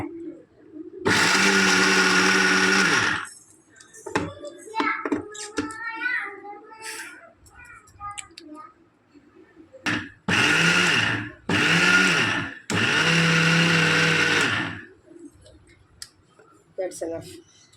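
An electric mixer grinder pulsed while grinding almonds into powder, several loud bursts of whirring motor noise separated by short gaps in which a voice talks.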